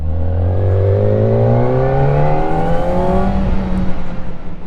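Kawasaki ZX4RR sports bike accelerating hard through the gears with a quick shifter, a loud close engine howl rising in pitch with rapid seamless upshifts, no talking.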